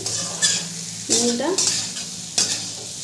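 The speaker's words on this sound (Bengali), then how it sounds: "নুনটা দিয়েও আমি ভালো করে কষিয়ে নেব। আলু ফুলকপি ভালো করে কষানো হয়ে গেছে" Potatoes and cauliflower stir-fried with salt in a pan, a steady sizzle broken by a few sharp scrapes and stirring clatters of the spatula, close and fairly loud with no talking.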